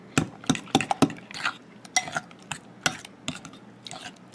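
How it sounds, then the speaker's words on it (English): Egg muffin mixture with bacon, sausage and cheese stirred in a bowl, heard as sharp repeated clinks and scrapes of a utensil against the dish in an irregular rhythm, close and fairly loud, with no talking. "So now we're just going to mix all this together."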